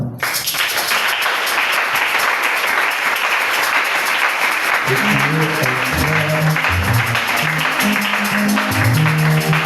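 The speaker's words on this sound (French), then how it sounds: "Je voudrais encore que vous acclamez pour vous-même." A church congregation applauds loudly and continuously, a dense wash of clapping from many hands, with a low murmur of voices or music rising beneath it in the second half.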